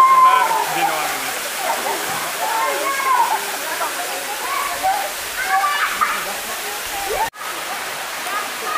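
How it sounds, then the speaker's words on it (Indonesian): Steady broadband rush of the twin waterfall at Curug Kembar Binuang in Ciamis, a continuous close wash of falling water with a brief dropout near the end and faint voices mixed underneath. "sayang sekali kalau kalian tidak mencoba air terjun di Curug Kembar Binuang ini"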